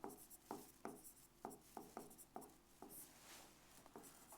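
Chalk writing on a board during a geography lecture: a run of short, scratchy taps and strokes in an uneven rhythm, with a longer rubbing scrape partway through, close and moderately loud, with no talking.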